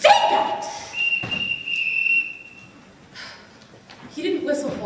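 In a Sound of Music scene, the captain blows a single sustained, shrill whistle call to summon the children, heard alone briefly between breathy gasps and voices.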